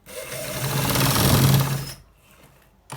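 An industrial sewing machine stitching a trouser side pocket, a loud close whirring buzz that runs for about two seconds before stopping, followed by a short pause and a brief restart.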